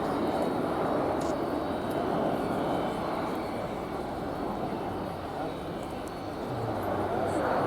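A German Air Force Airbus A400M Atlas military transport aircraft flies a display at an airshow, its turboprop engines giving a steady, distant broadband roar that swells and eases slightly. A commentator talks over it throughout.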